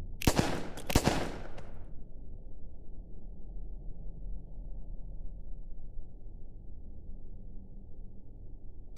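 Gunfire in the game Melon Playground: two sharp, loud shots close together at the start, then only a low, steady hum.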